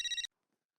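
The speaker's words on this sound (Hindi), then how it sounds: "उसी का फोन है।" A phone ringtone trills in a fast, bright burst of three or four pulses lasting about a quarter second, then cuts off abruptly into silence.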